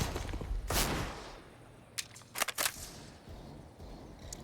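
Counter-Strike: Global Offensive gunfire in a pro match at IEM Katowice 2022 near Banana on Inferno: one sharp shot, then a quick cluster of three cracks, loud and close over low background noise.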